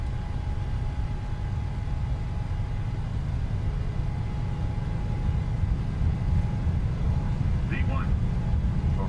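Airliner jet engines spool at takeoff thrust in a flight simulator, a steady loud low roar and rumble filling the whole stretch, with a brief voice near the end.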